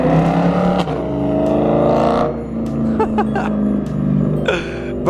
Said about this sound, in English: I never get to hear my car from the outside